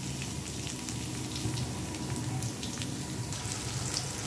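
Chopped garlic and onion frying in hot oil with cinnamon, bay leaf and cloves for a tempering, giving a steady, close, dense sizzle with crackling pops throughout.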